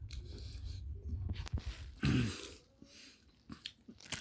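Someone bites and chews crunchy battered fish and chips up close, with irregular crisp crunches and a louder bite near the middle, between quieter chewing sounds.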